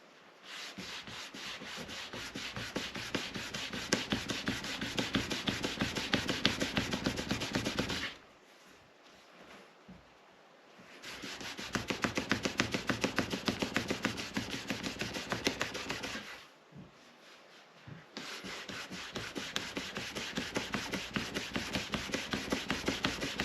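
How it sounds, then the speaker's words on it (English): Rapid back-and-forth rubbing as a tooled leather edge is burnished, running in three long bursts of fast scraping strokes separated by short quiet pauses. "go ahead and burnish that again"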